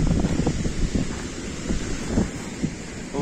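Stormy sea on a shore with waves breaking and strong wind buffeting the microphone, a steady low roar with surging swells and no voices.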